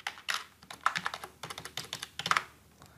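Rapid, irregular keystrokes on a computer keyboard while login credentials are entered, a close, crisp burst of clicks lasting about three seconds with short pauses, no voices.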